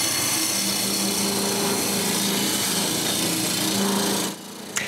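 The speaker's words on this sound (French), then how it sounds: "il faut que je coupe mon collage. Je commence par faire une petite entaille pour guider la scie." A power saw runs steadily through a glued-up wood blank in a woodturning shop, a loud continuous whine that cuts off near the end, with no talking.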